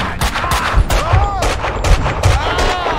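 Gunshots in Max Payne 2, a rapid string of loud, close shots cracking out in quick succession, some with ringing metallic echoes.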